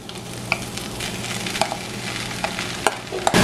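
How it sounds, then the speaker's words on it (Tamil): Diced potato being stirred into tinned fish frying in a pan, a steady close sizzle with scattered sharp scrapes and clicks of the spoon against the pan, no voices. "இதை நல்லா மிக்ஸ் பண்ணி விடுங்க"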